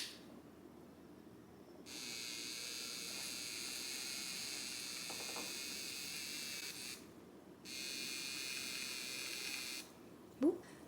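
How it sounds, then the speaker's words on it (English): A handheld electric mixer blends baking ingredients that include cinnamon, buzzing in two sustained bursts of steady whine separated by a brief pause, quiet and close with no talking. "A handy electric mixer"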